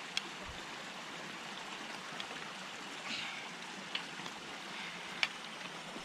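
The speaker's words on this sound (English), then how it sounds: "Our first river ford of the day." Stream water at a river ford on a winter hiking loop trickles and babbles softly and continuously, with a few small splashes and drips.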